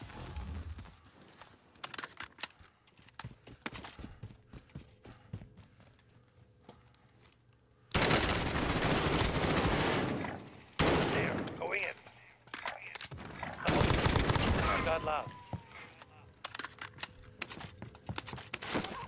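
Video game gunfire bursts out in loud, dense volleys in the second half, following a quieter stretch of keyboard clicking and scattered shots, with a voice speaking at times.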